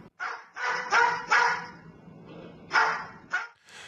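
A parrot mimics a dog's bark, giving a handful of sharp, close barks in an uneven sequence with short pauses between them.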